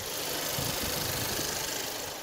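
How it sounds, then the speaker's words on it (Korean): A 2016 Renault Samsung SM6 2.0 GDi engine idling close up with the hood open, a smooth, steady mechanical hum with a faint rattle and no voices. "바로 가까이서 엔진 사운드 담아드리도록 하겠습니다"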